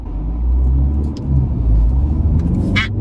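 A car rolling slowly along a road, with a steady low engine rumble and road noise from inside the cabin and a brief high squeak near the end.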